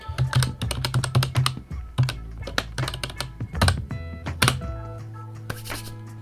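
Fingers type on a computer keyboard up close, producing a quick irregular run of sharp clacks and heavier thunks, like spacebar presses, that gradually thins out.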